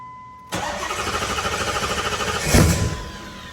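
Cold start of a twin-turbo HEMI V8 with an Aeromotive fuel pump: a quiet pump hum, then a sudden crank and catch into a loud, pulsing idle with a brief rev swell near the end.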